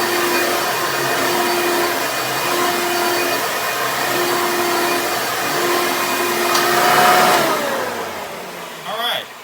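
A Hoover Elite vacuum cleaner sweeps the floor through its hose, giving a loud, steady, close-up whine that drones on unbroken before dipping and cutting off near the end.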